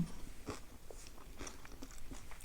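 Close, faint biting and chewing of herbal sushi, with soft crunches and wet mouth sounds repeating irregularly over a couple of seconds.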